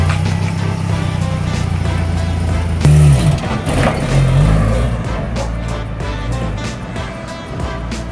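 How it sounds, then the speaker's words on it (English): A lowered Nissan D21 Hardbody mini pickup with a screw through the middle of its exhaust rumbles loudly up close, with a sharp surge of revving and rough, popping bursts breaking over the steady engine drone. "Oh, it's backfiring now."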